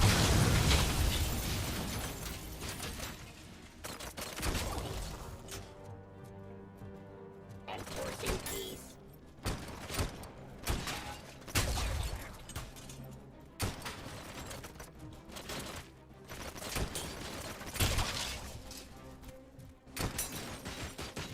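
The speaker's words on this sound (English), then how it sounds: "there's a lot of fire coming my way." Enemy gunfire and explosive bursts in the Robocop: Rogue City video game, loud irregular blasts and shots recurring through the scene with mechanical clatter between them.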